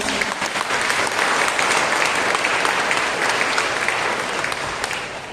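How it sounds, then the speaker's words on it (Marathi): A church congregation claps together in sustained, dense applause that stays steady and loud for the whole stretch, easing slightly near the end. "त्या परमेश्वराला टाळ्या वाजवून धन्यवाद देऊया."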